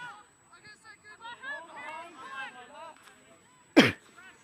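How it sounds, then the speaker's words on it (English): A single sharp, loud cough bursts out near the end, following a stretch of speech by a commentator at a live university quadball match. "Apologies for the coughing, I don't have a mute button."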